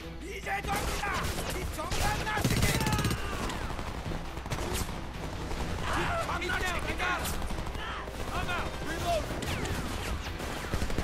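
Rapid gunfire from the first-person shooter Homefront, with dense automatic bursts and scattered shots running almost continuously at close range, mixed with game effects and someone talking throughout.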